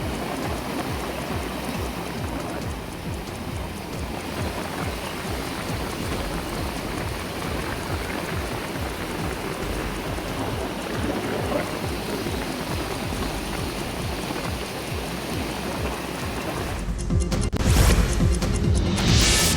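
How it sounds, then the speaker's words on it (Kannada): Heavy rain pours steadily in the Shivamogga area, a dense continuous hiss with a patter of drops on surfaces throughout, swelling louder and closer in the final couple of seconds. "ಇನ್ನು ಶಿವಮೊಗ್ಗ ಭಾಗದಲ್ಲೂ ಭಾರಿ ಮಳೆ ಆಗ್ತಾ ಇದೆ."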